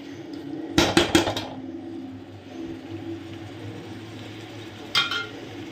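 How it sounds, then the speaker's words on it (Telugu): Prawns being stirred with masala in a pan for a prawn curry: a quick burst of metal spoon scrapes and clanks, a soft steady cooking hum, then one more brief clatter near the end. "ప్రాన్స్ అంతా ఒకసారి మిక్స్ చేసుకుంటున్నాను."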